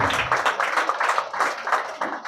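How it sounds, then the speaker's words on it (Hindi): Audience applause at a book launch felicitation, a steady patter of many hands clapping together indoors, fairly close and continuous with no talk over it. "Everyone, big round of applause for the madam."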